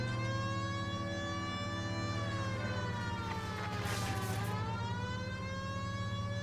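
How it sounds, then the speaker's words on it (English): A loud police car siren in the video game L.A. Noire wails continuously, its pitch rising and falling in steady cycles over a constant engine drone, with no talking. "People might move out of the way quicker if you use the siren."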